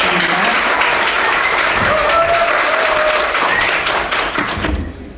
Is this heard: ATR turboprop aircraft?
no